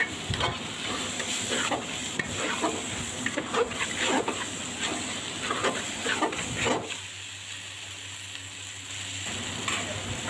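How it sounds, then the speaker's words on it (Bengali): Rice for bhuna khichuri is stirred and fried in a pot, giving a steady close sizzle with scraping stir strokes repeating irregularly; the stirring stops near the end, leaving a softer hiss. "চালটাকে এখনও নিচ থেকে ভালো করে আমি নাড়াচাড়া করে দিচ্ছি।"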